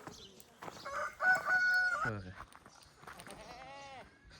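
A goat gives a couple of wavering bleats, close by, between stretches of people talking quietly.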